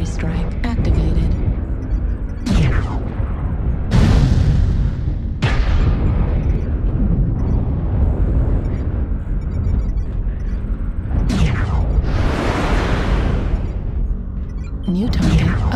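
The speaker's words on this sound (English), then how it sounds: "Artillery strike activated." Artillery strikes in a video game: a continuous run of heavy booming explosions, loud and dense, with repeated blasts layered over one another throughout.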